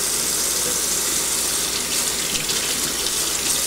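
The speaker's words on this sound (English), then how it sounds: "Rinse it out from the bottom so it goes through here." Hookah parts rinsed under running water, a steady hissing gush from a tap splashing through the pieces, close and continuous, with no talking.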